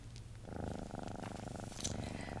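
A house cat purring while being petted, a close, steady low rumbling purr with a rhythmic pulse, quiet and alone.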